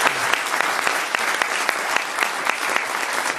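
Audience applause at a film festival screening in Paris, loud and close with sharp individual claps standing out above a sustained crowd clapping.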